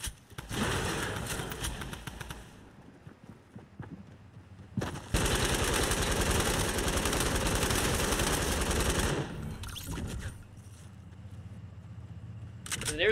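Light machine gun fire in Fortnite, a sustained loud burst of rapid automatic shots with a shorter burst before it and faint gunfire after.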